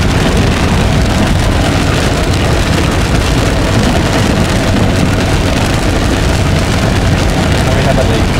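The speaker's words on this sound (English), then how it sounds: "The rain is absolutely lashing down and lightning appears every so often." Heavy rain roars steadily and loudly, a dense unbroken wash of drumming drops with no let-up.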